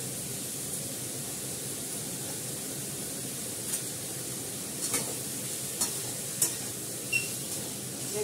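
Ginger paste sizzling as it fries in a pan, a steady hiss that runs throughout with a few brief clicks and spatters toward the end, no voices.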